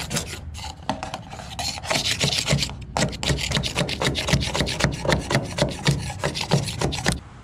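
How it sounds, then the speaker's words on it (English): A paint scraper rasps steadily across the bottom of an airboat hull, stripping old paint in quick repeated strokes, close, loud and continuous, with no talking. "so I'm just getting a paint scraper, and I'm going to scrape as much as I can off"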